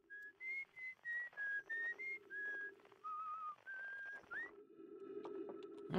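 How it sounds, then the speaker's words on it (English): A character in the game Outer Wilds whistles a tune as a run of clear, bright, sliding notes in a steady melodic rhythm, close and alone over a low background drone. "he's humming or whistling the same tune"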